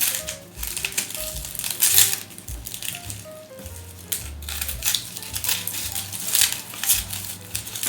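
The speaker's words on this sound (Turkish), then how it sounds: "3 tane soğan kıyacağız böyle anne usulü." Rapid, sharp knife taps on a cutting board as three onions are chopped, continuing steadily over faint background clatter with no talking.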